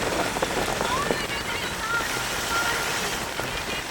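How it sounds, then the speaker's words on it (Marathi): Heavy rain pours steadily on surfaces during a trip to Goa, a dense continuous hiss without voices. "बापरे खूप जोराचा पाऊस यार"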